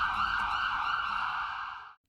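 An ambulance siren sounds as a steady, piercing tone held for about two seconds at moderate distance, then stops abruptly with no voices around it.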